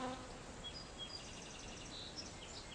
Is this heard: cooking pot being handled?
no